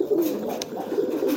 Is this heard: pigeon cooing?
yes